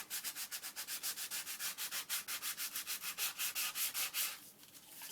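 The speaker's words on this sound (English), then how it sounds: "I'm just going to rough up the card a little bit with some sandpaper so that when we glue, it will try to stick a bit." Sandpaper rubbed over a paper card in quick, steady back-and-forth strokes. The scratchy rasps are close and even, with no voices.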